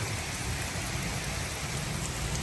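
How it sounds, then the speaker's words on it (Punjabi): Heavy rain pours down steadily and loudly at a spot where bird and dog cages are being built, a dense unbroken hiss of drops hitting surfaces with no voices. "ਅੱਲਾ ਨੇ ਮਾੜੀ ਜੀ ਬਾਰਿਸ਼ ਕੀਤੀ ਹੈ"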